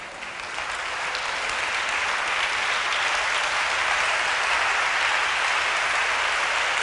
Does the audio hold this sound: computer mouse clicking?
no